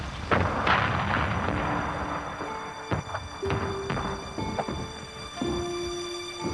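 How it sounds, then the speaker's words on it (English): A Korean War city under heavy bombardment, with deep booms and rumbling blasts over a continuous roar, and sharper explosions landing at irregular intervals throughout. "The United Nations force uses its aerial power to bombard the city"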